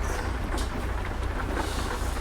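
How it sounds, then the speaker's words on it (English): Rain falling in the American Truck Simulator game, a steady, even hiss of downpour with a low rumble underneath, continuous and fairly loud throughout, with no voices. "we got a little rain going on this morning as far as the game goes"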